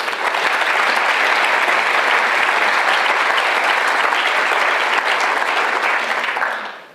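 A lecture audience on genocide and international law breaks into loud, sustained applause that fills nearly seven seconds before tapering off at the end.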